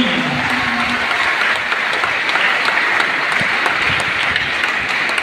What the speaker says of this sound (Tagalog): Pwede bang pumalakpak yung mga taga-Luzon?